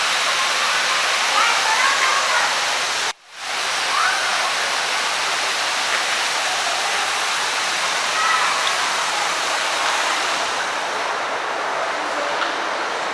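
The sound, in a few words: waterfall at an aquarium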